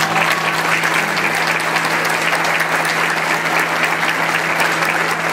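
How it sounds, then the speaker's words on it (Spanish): Sustained audience applause fills a municipal ceremony in Banderilla, a steady dense patter of many hands clapping at even loudness throughout, with a faint low hum underneath. "vamos a recibir con un fuerte pero caluroso aplauso a Miguel Ángel"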